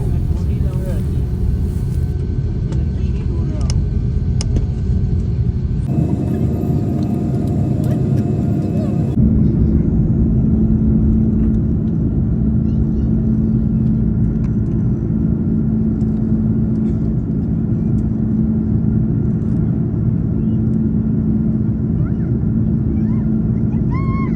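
Cabin rumble of a SriLankan Airlines plane taxiing at Dubai, a steady low engine drone with a brief brighter, louder stretch early on, heard from inside the aircraft with no talk.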